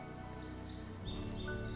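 Birdsong from the Nancy Drew game Ghost Dogs of Moon Lake, with thin high chirps and tweets trilling steadily over a dense, constant game ambience, no talking.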